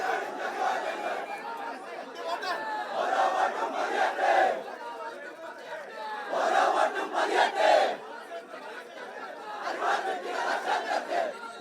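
Crowd of LDF supporters gathered at a railway station to welcome a candidate, chanting and shouting together in loud rhythmic bursts that rise and fall over a constant crowd murmur.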